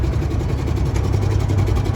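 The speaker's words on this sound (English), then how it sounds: "So this is by far the coolest, best tractor I have ever owned or will ever own." A Versatile 895 tractor engine idles steadily, a loud, constant low diesel rumble with an even throbbing vibration and no voices over it.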